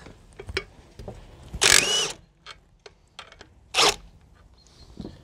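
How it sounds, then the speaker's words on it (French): Impact wrench loosening a shock absorber nut on a Renault Twingo, two loud bursts of hammering whirr about two seconds apart, close up, with smaller clanks and tool knocks between them. "il va falloir le desserrer à la péteuse"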